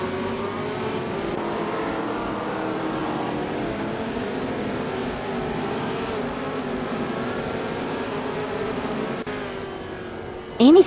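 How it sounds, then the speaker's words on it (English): Racing video game car engines, including a McKee Mark 12, drone steadily and continuously at moderate level throughout, with a brief louder rising whine at the very end. "Amy's car is a McKee Mark 12, starting in 5th place."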